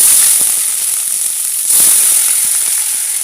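Onion paste hitting hot oil in a frying pan that was just used to fry plantain, giving a loud, steady, close sizzle with scattered crackles and pops, and no voices.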